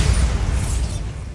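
A Bombarda blasting spell explosion rolls out as one sustained, loud, deep rumbling blast with a broad roar that stays heavy for over a second before easing slightly.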